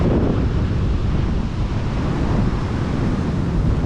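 Wind buffets the microphone at a lakeside, with a steady broadband rush and low rumble that may include lapping waves, loud and continuous with no talk.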